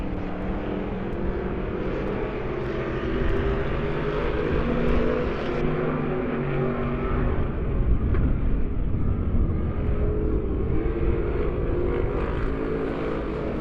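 Race cars circle the track at Lebanon I-44 Speedway. Their engines make a loud, continuous roar that slowly swells and fades as the pack passes, with no talking.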